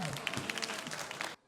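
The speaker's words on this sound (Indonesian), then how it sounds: "beri tepuk tangan untuk keduanya" Audience applause for two village quiz teams at a Balinese banjar quiz show, a dense burst of clapping with some crowd voices that cuts off abruptly near the end.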